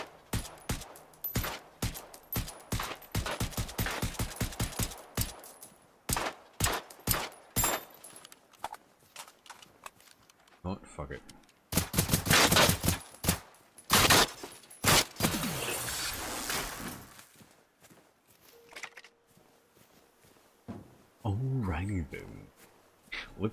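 Semi-automatic gunfire in the video game Generation Zero: a rapid run of sharp, loud single shots in a steady rhythm, then scattered bursts and crashing impacts, with a voice talking at times.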